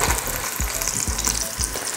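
Potatoes frying in a pan for caldereta, a close, steady loud sizzle with rhythmic scraping stirs roughly every half second and no voices.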